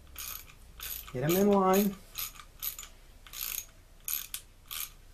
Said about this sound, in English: Make sure when you tighten these that you tighten them evenly.